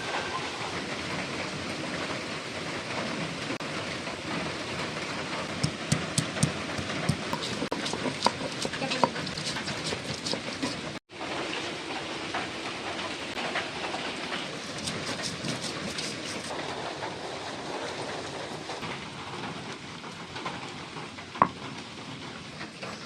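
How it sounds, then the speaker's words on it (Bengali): Ginger and cumin are ground together on a grinding stone, producing a continuous rough scraping and rolling grind with small knocks, close and steady except for one brief pause partway through. "আদা জিরে একসাথে আমি বেটে নেবো"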